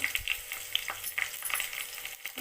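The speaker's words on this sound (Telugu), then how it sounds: "చిల్లీస్ ఫ్రై అయ్యాక ఆనియన్స్ వేయండి" Sliced onion and green chillies fry in hot oil in a pan for an aloo rice dish, giving an even, close sizzling hiss with a few soft utensil taps and no talking.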